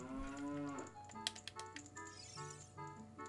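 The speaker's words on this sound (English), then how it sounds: "Why is there a cow in jail?" A cow moos from The Legend of Zelda: Ocarina of Time, a drawn-out, wavering call followed by tinny blips and short electronic game sound effects.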